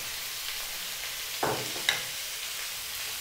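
Chopped onion hits a hot pan of browning pork ribs, giving a steady close sizzle and crackle with two sharper bursts as it drops in and is stirred, with no talking.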